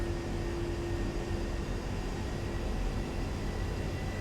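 A-10 jet engine in a flight simulator game spooling up as power is added, a steady broadband roar with a faint whine, constant and alone with no talking.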